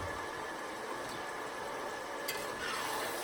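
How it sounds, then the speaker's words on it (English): Spaghetti meat sauce being stirred in a pan, a steady bubbling sizzle with a soft scrape of the spoon, close and even, without any talking. "Okay, I'm gonna stir that."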